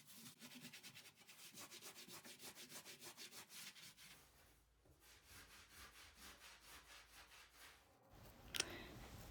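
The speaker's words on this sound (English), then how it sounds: "it's a linoleum knife with a curved blade" A curved-blade linoleum knife scrapes excess mortar from porcelain penny tile in a bathroom, a quiet rhythmic series of short rasping strokes, then a brief pause, softer strokes, and a sharp clatter at the very end.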